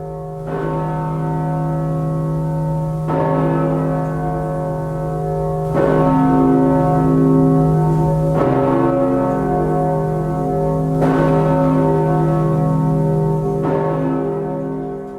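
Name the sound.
Riverside Church bourdon bell, New York, Gillett & Johnson 1928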